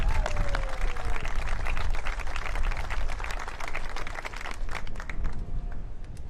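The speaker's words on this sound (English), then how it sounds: "Let's give the Governor a great round of applause." Outdoor crowd at the Wisconsin State Fair opening ceremony applauding the Governor, a dense sustained wash of clapping that stays steady and fairly loud throughout, with faint voices mixed in.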